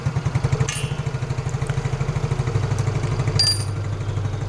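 A Yamaha scooter's faulty electric starter motor cranks steadily with a rapid, laboured chugging pulse, loud and close, running continuously without firing.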